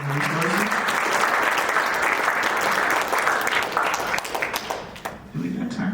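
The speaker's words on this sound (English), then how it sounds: "can I get a round of applause" A round of applause from a crowd at a community resource event, dense and sustained before thinning out near the end as a voice returns.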